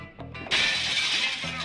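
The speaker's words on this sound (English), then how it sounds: "it takes you a few punches to break the glass" Glass shatters in the video game Bully: a loud, bright crash bursts in after half a second and rings out into a sustained glittering spray of breaking shards, preceded by a few faint tonal game sounds.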